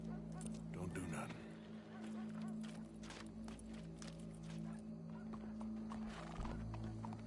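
Hooves clip-clop steadily while a horse snorts and neighs in the video game Red Dead Redemption 2, with a constant low hum and other background noise beneath, all fairly quiet.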